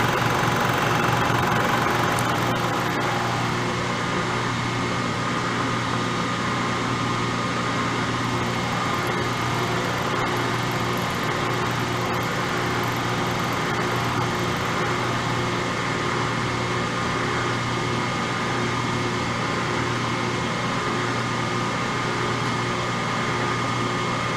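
A belt sander grinds down a metal Kurt vice speed handle, giving a loud, steady, continuous grinding whir that holds evenly throughout with no talking.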